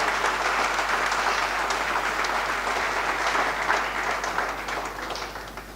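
Steady, dense applause fills the hall from a large audience at a church general assembly in Côte d'Ivoire, continuous and loud throughout, fading slightly at the end.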